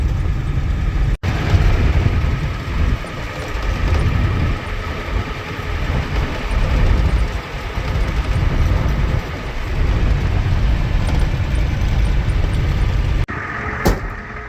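A pickup truck drives along hauling a trailer loaded with hay bales, giving a continuous rumbling road and engine drone with wind buffeting that swells and eases, then drops briefly at the end.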